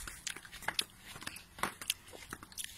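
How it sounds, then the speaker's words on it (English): Straw is munched up close, with crisp, irregular crunches and chewing bursts scattered over a quiet background. "So, munching the straw as well."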